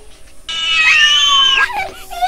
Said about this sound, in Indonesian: Apa berisik banget sih kucing.